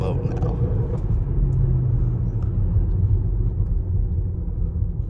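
Yellow Lamborghini Urus running in its quiet drive mode, a low steady engine and exhaust rumble droning continuously at moderate level, with faint voices present.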